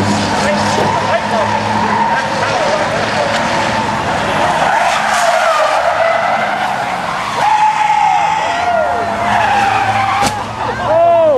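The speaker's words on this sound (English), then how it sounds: "locked the rear tire up" Race car on a track skidding with its rear tire locked, a loud sustained tire squeal over engine roar and rushing crowd-like noise, with sharp screeching sweeps near the end; voices talk over it.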